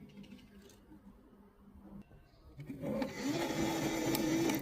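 An AMS unit feeding 3D printer filament on its own, a faint quiet stretch giving way to a louder, steady motorised whir and grinding hum over the last couple of seconds, close by.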